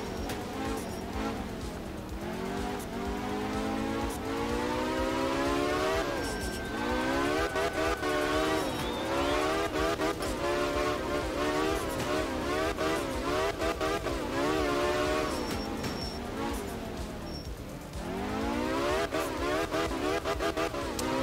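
A four-cylinder rally car engine in the video game Art of Rally revs, climbing and dropping through repeated gear changes, loud and continuous with a buzzy, raspy tone throughout.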